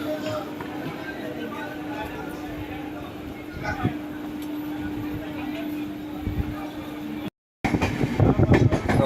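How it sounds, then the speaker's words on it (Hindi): Grand Trunk Express train rolling out after a station stop, a steady rumbling run with a constant mechanical hum, brief dropout near the end, then louder rattling wheel and carriage noise. "5 मिनट के स्टॉपेज के बाद यहाँ से खुल चुका है हमारी ट्रेन।"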